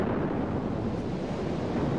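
A film sound effect of an explosion blowing out the electrics: a sustained, deep roaring rumble of blast noise with no sharp onset, heavy and even throughout, without speech.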